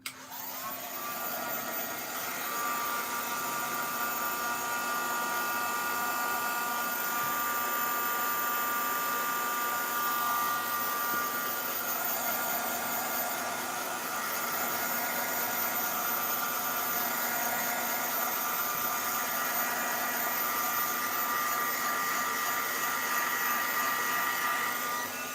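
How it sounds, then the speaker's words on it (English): A heat gun blows hot air in a steady, loud, continuous rush with a constant whine, running alone with no talking. "I'm just going to give it a quick blast with the heat gun"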